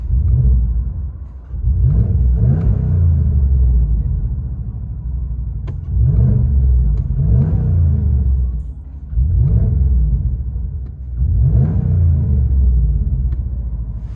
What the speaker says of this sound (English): Ram 1500 just swapped out the muffler for FLOWMASTER Super 10